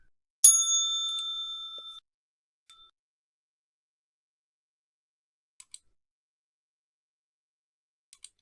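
A single bright bell strike rings out close by and fades over about a second and a half. A few faint, sparse clicks follow in otherwise near silence.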